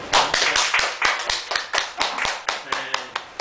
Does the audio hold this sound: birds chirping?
no